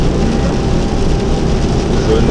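Steady rain, loud and close, hisses across the whole clip as a dense, even wash with no gaps or talk.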